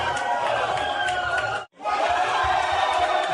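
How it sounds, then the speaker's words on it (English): A small group lets out a loud, sustained cheer, breaking off for a moment and then roaring again, close and filling the room. "we'll just do a cheer"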